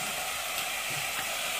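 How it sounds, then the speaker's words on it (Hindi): Small pieces of yogurt-marinated chicken fry in a pan with a steady, close, continuous sizzle and faint occasional stirring clinks, with no talking. "जो चिकन फ्राई हो रहा है"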